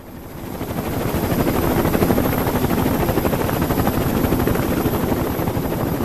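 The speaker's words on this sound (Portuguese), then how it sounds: "Envie os helicópteros." A search helicopter's loud, steady rotor chop and engine roar, close by and unbroken, with no voices.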